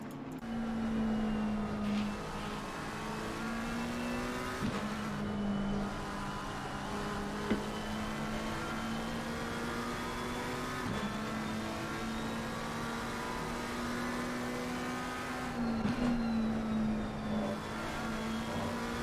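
A race car engine in Assetto Corsa Competizione drones loud and steady through a lap at Suzuka, with the pitch sagging and climbing at several gear shifts and throttle lifts along the way.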